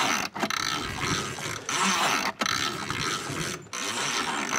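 A 1968 Ski-Doo Super Alpine 370 snowmobile engine cranks over in steady, loud mechanical whirring bursts, broken by about four brief pauses, with no one talking.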